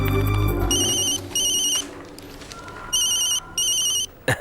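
A mobile phone rings with an incoming call in a Hindi-dubbed South Indian action film, giving repeated bursts of a bright electronic ringtone with gaps between them over quiet background noise. A louder sound at the start fades out.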